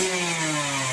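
A motorcycle engine revs through a loud aftermarket exhaust, giving a steady, raspy, buzzing note that holds close and loud for a brief moment.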